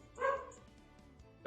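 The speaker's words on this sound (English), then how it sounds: "Dogs." A dog gives a single loud bark up close, then quieter whimpering noises follow, and a second sharp bark starts at the very end.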